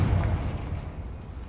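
A Confringo spell blast in Hogwarts Legacy, played on PC, lands as a deep, rumbling explosive boom that decays over a second and a half.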